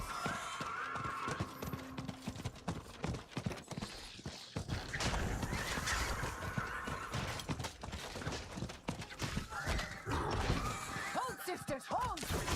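Horse hooves clip-clop amid crashes and clatter in a video game battle, with dense loud game noise throughout and a voice talking over it.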